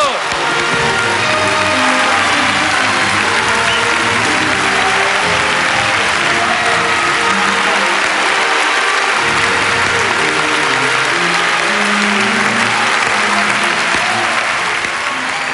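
A large audience at the César film awards ceremony applauds in sustained, dense clapping that fills the hall at a steady loud level for the full stretch, a few cheers and murmurs mixed in.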